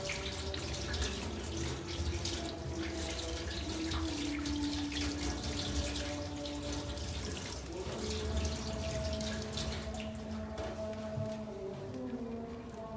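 Warm water pours and splashes steadily while a baby is rinsed in a bath, a continuous running-tap wash close by with no talking.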